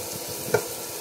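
Garlic frying in a pan for miki bihon guisado, a continuous close sizzle over a brief moment with one small sharp pop in the middle, no voices.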